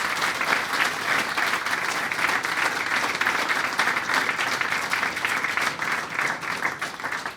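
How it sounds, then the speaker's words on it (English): Steady audience applause after a filmmakers' talk, dense even clapping from a seated crowd continuing for several seconds at moderate distance with no voices over it. "Everyone give us a bit of a round of applause."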